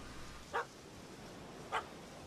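A puppy in The Witcher 3 gives two short, sharp yaps about a second apart, close and clear over a faint, steady background.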